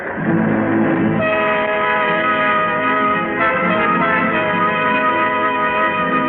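A train sound effect from a radio drama: a loud, steady horn or whistle sounds continuously over rumbling rail noise, with a brief shift in tone about a second in, and no voices.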